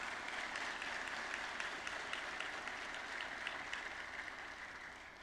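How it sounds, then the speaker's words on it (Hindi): An audience at a formal national water awards ceremony with the President of India breaks into applause. The clapping is continuous, dense and even, heard from a distance and fading slightly toward the end. "जोरदार तालियां हो जाएं।"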